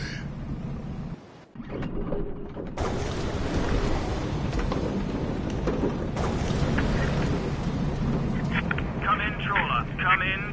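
Steady roar of heavy rain and rumbling storm wind in a fishing-themed VR game, loud and continuous from start to end, with a short dip near the beginning and speech-like voices mixed through.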